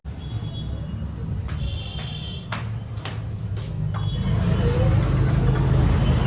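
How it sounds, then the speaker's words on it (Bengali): Jammed street traffic in Bengal on a festival immersion day: a bus engine idles and rumbles close by, with brief sharp bursts and a hiss of brakes as the vehicles creep forward, the noise building toward the end. "গাড়ির হর্ন শুনে বেরিয়ে এলাম কি জ্যাম লেগে গেছে"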